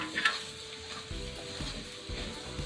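A spoon stirs grated coconut through melted jaggery in a pan over a medium flame, with a quiet, steady scraping and soft sticky shuffling, a few clearer strokes repeating about every second.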